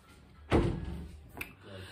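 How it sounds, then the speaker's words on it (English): A door shuts with one solid thunk close by, then a smaller click or rattle follows a moment later in a quiet room. "close the door now"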